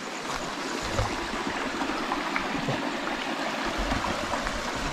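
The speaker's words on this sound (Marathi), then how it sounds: "व्हाळात हे पाण्याचा आवाज येता" A forest stream flows in a steady, fairly loud rush with gurgling undertones, close by and continuous, with no voices.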